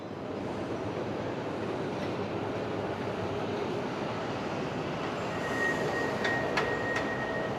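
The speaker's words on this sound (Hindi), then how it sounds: "ये था सबवे स्टेशन" Inside a New York subway station near the Brooklyn Bridge entrance, a steady loud rumble of a train fills the space, with a high metallic squeal of wheels rising near the end and a few sharp clicks.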